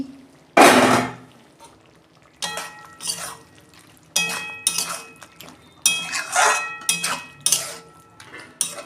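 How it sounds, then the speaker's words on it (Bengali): A lid comes off a cooking pot on a gas stove with a series of close metallic clanks and clinks, separated by short pauses. "আমি ঢাকনা খুলছি"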